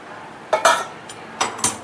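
Spoon scraping and clinking against a pan while mohanthal mixture with sugar syrup is stirred, four short sharp strikes in two pairs over a low background hiss.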